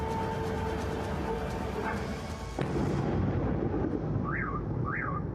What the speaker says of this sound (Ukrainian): Росіяни викладають відео, де спочатку чути звук безпілотників, а потім вибухи.